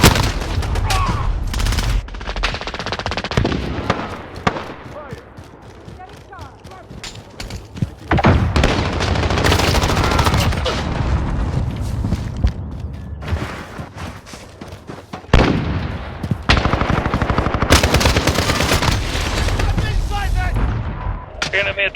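Video game gunfire from a Sykov automatic pistol and an MP5, loud close bursts of rapid shots separated by short pauses, with thuds and impacts mixed in.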